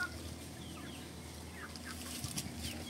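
Native chickens and Sasso hens cluck softly nearby in a farmyard, with short scattered calls over a low background hum.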